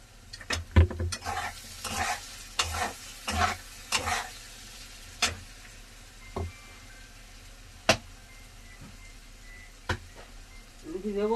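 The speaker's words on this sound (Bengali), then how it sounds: "এবার আমি মশলাটা দিয়ে ভালো করে কষিয়ে নেব।" Spice paste of tomato, green chillies, ginger and cumin frying in a pan, a quiet sizzle broken by a series of sharp spoon scrapes and clanks as it is stirred, a few sparser knocks later.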